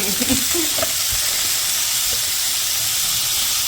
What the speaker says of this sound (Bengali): মশলা কষানো হয়ে গেছে, লাউগুলো দিয়ে দিই।